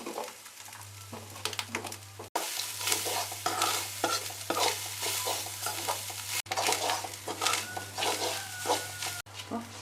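Grated coconut is stirred and roasted in a pan while making a jackfruit pada curry: continuous scraping of a spoon against the pan over a soft sizzle, close up, with a steady low hum underneath.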